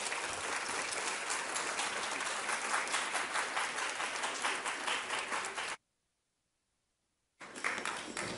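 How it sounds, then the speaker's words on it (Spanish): An audience at a school music recital applauds to welcome children performing on recorder, a dense, steady clapping that runs for several seconds, breaks off into silence, then resumes. "Así que pido un aplauso para recibir a nuestros niños."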